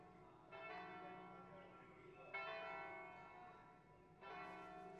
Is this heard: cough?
no